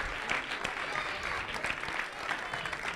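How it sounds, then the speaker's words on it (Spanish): Spectators at a mini sumo robot competition applaud, a steady dense patter of clapping from a crowd in a hall, moderately loud, with faint voices mixed in. "Un fuerte aplauso para todos"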